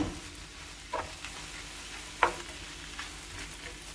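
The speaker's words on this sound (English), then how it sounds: "give it a little bit of a mix through. Get that turmeric moving through the tofu." Turmeric-coloured tofu is stirred in a frying pan over a low, steady sizzle, with a couple of brief scraping knocks from the utensil against the pan.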